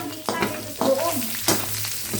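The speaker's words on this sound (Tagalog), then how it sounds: "May mantika na, ilagay natin sibuyas," Onion and garlic hit hot oil for adobong sitaw, making a steady frying hiss broken by three sharp clatters and scrapes of a utensil in the pan, close and fairly loud.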